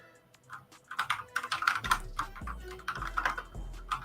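Python code being typed on a computer keyboard: quick, irregular runs of key clicks, fairly close and moderately quiet, with a few heavier thocks mixed in and no talk.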